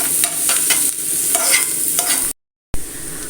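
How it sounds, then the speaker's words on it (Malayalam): Coriander leaves being sautéed in a pan: close, repeated scraping strokes of a spatula over a bright frying sizzle, broken by a brief silent gap before the sizzle returns; no voices. "കുറച്ച് മല്ലിയിലിട്ട് കൊടുക്കേണ്ടത് അത് രണ്ടും കൂടി ഒന്ന് നന്നായിട്ടൊന്ന് സോട്ട് ചെയ്തെടുക്കാം"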